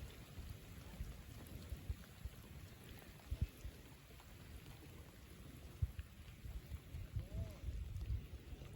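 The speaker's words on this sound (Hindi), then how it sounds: "ये बारिश जी ना बिल्कुल अचानक ही आई है।" Steady rain hisses faintly and evenly near Mangla Dam in Mirpur, with a few soft thumps scattered through it.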